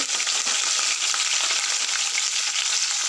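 Cumin seeds, curry leaves and two chillies fry in hot oil, making a dense, even, close-up sizzle with no pauses.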